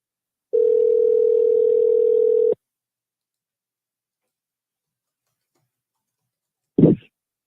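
A telephone ringing tone on an answered call sounds as a single steady two-second tone, then silence and a brief click near the end.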